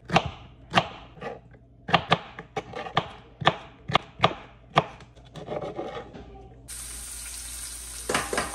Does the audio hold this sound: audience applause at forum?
no